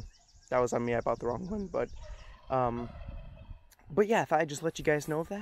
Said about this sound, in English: Geese are going nuts over there.